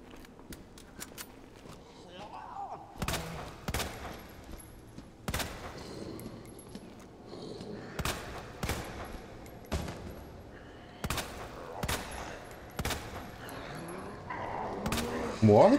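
Rapid bursts of gunfire in Resident Evil 2 Remake, aimed at a creature: a dozen or so sharp, loud shots in uneven clusters, with a voice talking faintly underneath.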